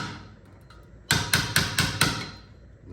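A hammer striking a rusty brake dust shield lip on a Toyota Supra MK4 front brake, five sharp metallic blows in quick even succession, close and loud.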